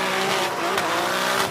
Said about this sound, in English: Listen to the anti-lag on it.